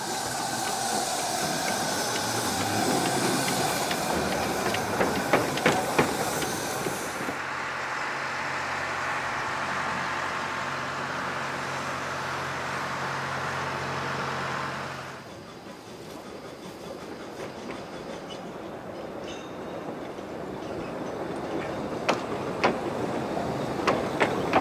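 A diesel hydraulic locomotive switches a narrow gauge train in Saxony, Germany, giving a steady, moderate idling rumble with hiss and rail noise, heard alone with no voices.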